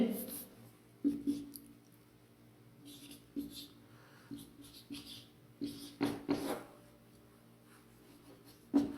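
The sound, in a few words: writing answer options during Hindi lesson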